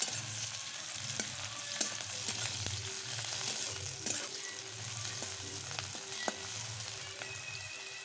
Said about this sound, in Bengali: পেঁয়াজ আর কাঁচা লঙ্কা তেলের পর দিয়ে দিচ্ছি